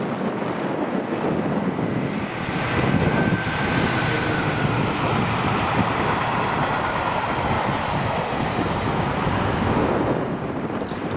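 Locomotive 73 972 passing on the Fife Circle line in Scotland, a steady, loud rumble of rail wheels and engine sustained throughout, with a faint high whine above, no talk.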